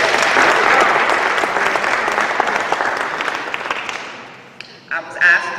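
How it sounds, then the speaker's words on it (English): Conference audience applauding, dense steady clapping from a large crowd that tapers off over several seconds before dying away. "Give yourselves a round of applause."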